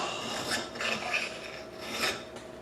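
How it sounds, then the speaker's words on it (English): A metal file rasps against a Marlin rifle receiver in several close, scratchy back-and-forth strokes, each swelling and fading, with no talk over it. "Filing at the receiver, you know, oh my God, I'm weakening my gun."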